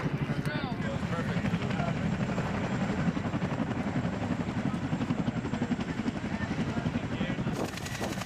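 Heavy rotor chop of a CH-47 Chinook twin-rotor helicopter at close range, a loud steady pulsing thump with broadband wash and a high whine, continuous throughout.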